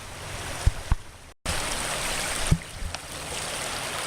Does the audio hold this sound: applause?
no